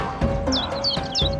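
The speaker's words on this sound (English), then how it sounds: "Many birds lived in the garden" Cartoon birds in a garden give a few quick bright chirps, about three short tweets over a steady ambient background, with no talking.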